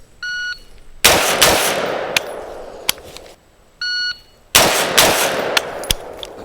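Daniel Defense DDM4V7 AR-15 rifle fired at a range, two pairs of loud sharp shots, each preceded by a short electronic shot-timer beep, ringing echoes and tinkling casings between, no voices.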